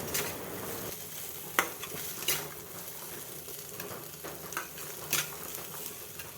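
Food with five-spice seeds sizzles steadily in a hot pan, with occasional sharp clinks and scrapes of a utensil stirring, close and fairly quiet.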